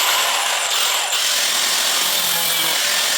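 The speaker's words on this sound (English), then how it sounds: "Find a grinder. So what I'm going to do is cut a little slot in here and then use a flathead screwdriver to get it out." An angle grinder cuts a slot into a Ski-Doo snowmobile hood latch, giving a loud, steady, hissing whine that runs unbroken for the whole stretch with no voices.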